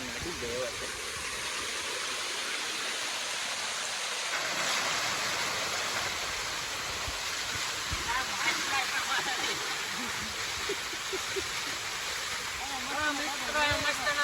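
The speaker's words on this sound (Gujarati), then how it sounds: "મોટા મોટો ધોધ પડે છે" A large forest waterfall at the Khodiyar temple roars in a steady, dense rush that fills the whole scene, with faint voices now and then beneath the constant falling water.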